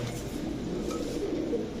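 Pigeons of fancy breeds such as Pakistani teddy, Kamargar, Cobra, Shahranpuri and Rampuri coo softly in a low, continuous murmur, several birds overlapping close by with no talk.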